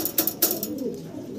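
Fancy pigeons of a running pair coo softly up close, low murmuring coos broken by a couple of brief rustling bursts near the start, with no talk.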